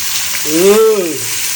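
Fish fries in oil in a pan for an Odisha-style fish pulusu, a steady bright hiss throughout with a short voiced sound rising and falling over it.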